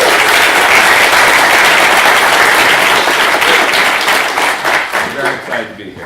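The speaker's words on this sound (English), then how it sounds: "Let's give them a big round of applause." Loud, dense applause from a conference keynote audience, steady and full before tapering off in the final seconds.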